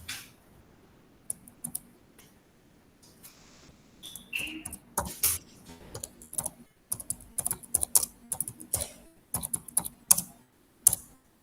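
Someone types on a computer keyboard during an online class session, with irregular bursts of key clicks that grow busier and denser toward the end, close and clear in a quiet room.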